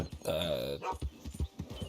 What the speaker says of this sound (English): ooh, dog.